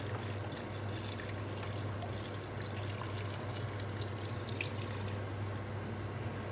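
Chicken stock is poured into a pot of Irish stew with vegetables, a steady liquid trickle and splash running throughout at moderate level, no talking.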